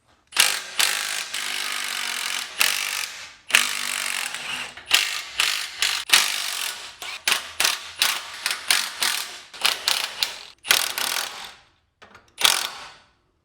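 A hand ratchet cranks on the U-bolts of a rear leaf-spring shackle, passenger side, on a 1987 Chevy K10 square-body truck. Close, loud bursts of rapid clicking come in repeated strokes separated by short pauses, with no talking.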